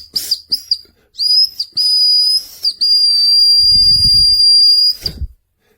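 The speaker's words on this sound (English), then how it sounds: "This whistle, nice design, but it is not very loud." A small survival whistle built into a 17-in-1 multifunction knife is blown in several short toots and then longer shrill sustained blasts, close but thin, with faint breath and handling noise between them.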